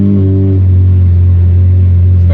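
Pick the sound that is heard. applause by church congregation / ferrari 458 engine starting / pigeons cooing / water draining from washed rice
ferrari 458 engine starting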